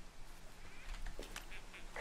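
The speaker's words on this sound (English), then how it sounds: "Ducks." Ducks quacking in the video game Firewatch, a few short faint calls over quiet ambient background.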